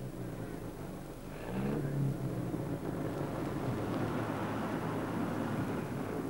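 A 1956 Jaguar D-type race car idles on the Le Mans starting line with a deep, steady engine rumble, then swells briefly as the revs rise before settling into a loud, continuous drone with wind noise.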